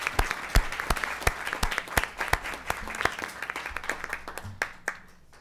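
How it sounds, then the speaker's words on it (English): Scattered hands clap in a loose, uneven rhythm at a city council meeting, individual claps standing out crisply before the applause fades away at the end. "Let's give them a round of applause and say thank you"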